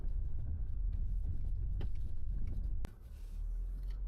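A 2022 Land Rover Discovery Sport drives on a hill road, its steady low engine and road rumble continuous throughout, with a brief sharp knock near the end before the drone settles slightly quieter.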